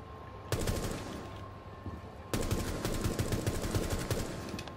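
A rifle is tap fired in the video game Rainbow Six Siege, with a short burst of rapid, crisp shots followed after a pause by a longer stretch of quick repeated shots, loud and close.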